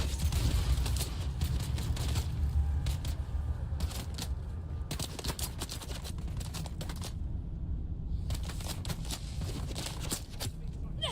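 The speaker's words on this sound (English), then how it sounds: "Is that machine gun? It's machine gun." Machine gun fire in the Dune Awakening video game, heard in the Deep Desert: rapid repeated shots in dense bursts over a constant low rumble, with short pauses between runs.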